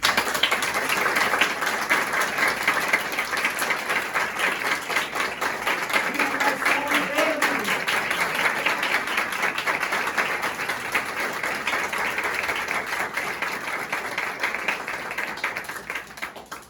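Theatre audience applauding for 17 seconds, a dense, steady wash of many hands clapping that holds at full strength throughout, with a faint voice briefly audible midway.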